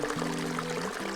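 A small mountain waterfall in the Colorado wilderness pours steadily, a close, continuous rushing and splashing of water with no voices.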